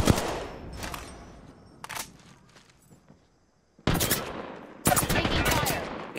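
Gunfire from a weapon in the shooter The Second Coming, sharp close shots in short bursts separated by brief quiet gaps, ending in two loud sustained volleys of rapid fire.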